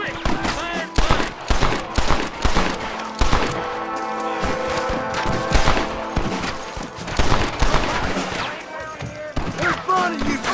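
Rapid gunfire crackles through a Red Dead Redemption shootout, dense overlapping shots and bursts ringing out loudly across the whole stretch while gruff voices shout over the din.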